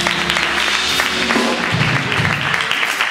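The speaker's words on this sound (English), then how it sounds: "Come on, clap your hands." A church congregation claps hands during an evening youth service, a steady loud crowd clapping that continues throughout alongside voices.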